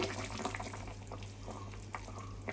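Mustard and poppy seed paste ground with green chilli and a little salt is poured into hilsa fish cooking in a pan, with soft liquid pouring, dripping and faint sizzling heard up close and quietly.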